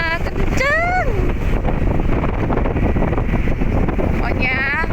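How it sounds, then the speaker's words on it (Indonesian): Strong cold wind at an exotic highland spot in West Sumatra, roaring steadily as loud microphone buffeting throughout, with people talking over it. "Sejuk banget. Anginnya kencang."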